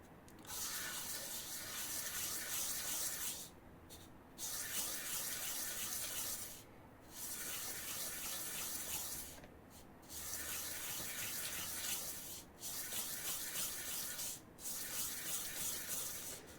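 Sanding a bushing for a balisong tanto knife with very light pressure: a steady, close abrasive rubbing that runs in long continuous passes, broken by several short pauses, with no talking.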